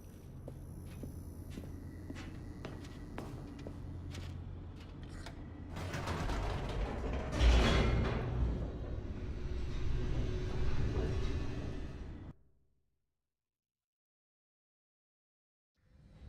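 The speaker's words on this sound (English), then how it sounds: "The elevator raced downward, plummeting towards an unknown fate." Elevator descending in The Stanley Parable video game: a steady mechanical rumble with creaks and clanks, swelling louder midway, then cutting off abruptly into silence near the end.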